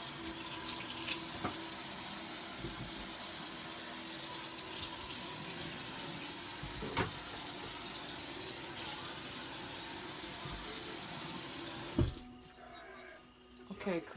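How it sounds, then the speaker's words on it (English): A kitchen tap runs steadily as vegetables are rinsed under the water, a continuous close splash with small clatters, cutting off near the end, while people talk quietly. "let's rinse these vegetables off."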